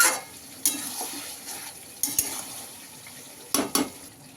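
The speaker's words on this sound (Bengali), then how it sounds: "টমেটোটা দিয়ে একটু মাংসটা ভালোভাবে নেড়ে দেব।" Meat and tomato stirred in a cooking pan. A soft sizzle sits under several distinct scraping, clinking strokes of a utensil against the pan, spaced unevenly.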